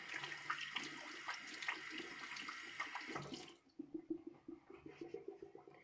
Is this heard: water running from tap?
yes